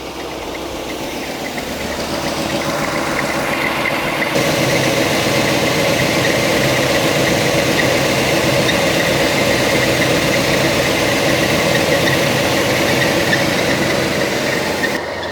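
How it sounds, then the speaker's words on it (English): A Mercedes R107 420SL V8 idles steadily and fairly close, its even rumble topped by a persistent high squeal from a slipping belt, with no talk over it. "It's still got this very sort of squeaky belt or whatever it is."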